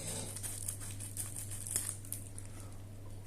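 Plastic packaging is crinkled and cut open while unboxing a Ridge forged carbon fiber wallet, close, with soft steady rustling, light crackles and a low steady hum underneath.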